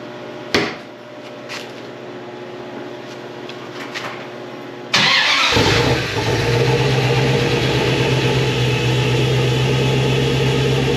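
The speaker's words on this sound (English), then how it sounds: "That pump is sucking air. It must be. Because that sounds way louder than it should be." A 1990 Dodge Dakota engine starts and runs at idle with a loud, steady drone, its fuel pump sucking air and sounding louder than normal; a few faint knocks come before the engine catches.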